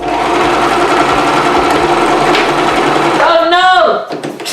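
A sewing machine stitches hair bundles onto a lace closure wig, running loud and steady for several seconds before the motor strains and stops abruptly as the fabric catches.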